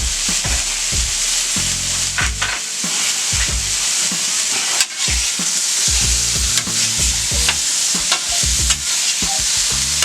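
A steak sears on a hot griddle with a loud, continuous sizzle and hiss, broken by scraping and knocking as the meat is moved and turned.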